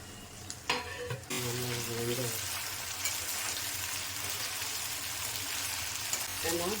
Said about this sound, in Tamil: மூடி போட்டு ஒரு 5 நிமிஷம் சிம்மில் மூடி வச்சு வேக வைங்க